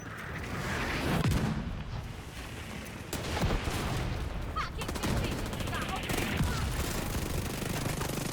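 Gunfire in The Division 2 from a pistol and other weapons, dense rapid cracks and bursts in a continuous loud barrage, with a voice talking over the shooting.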